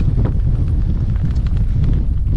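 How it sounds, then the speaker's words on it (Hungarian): Harsh, relentless wind buffets the microphone outdoors on a cold, high road above 1000 m, a loud continuous rumble with gusty surges across the whole short stretch. "Kegyetlenül erős szél van."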